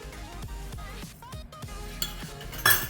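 Prawns coated with turmeric and salt are stirred for a marinade in a Goan kitchen, bringing a steady run of light, evenly spaced clinks of a utensil against a bowl, with no talking.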